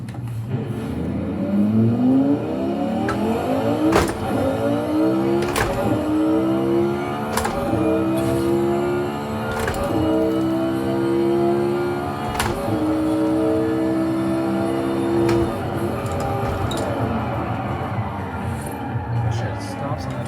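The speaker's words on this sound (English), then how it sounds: "Never heard a twin turbo LFA in your life." A twin turbo Lexus LFA revs hard and drives off, its engine climbing in repeated rising pulls through the gears, each ending in a sharp break, loud and close for the whole stretch.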